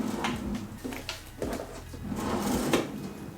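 A closet drawer full of accessories and jewelry slides open during a decluttering session, giving a few wooden scrapes and rattles with small knocks of contents, close and moderately loud, with no talking.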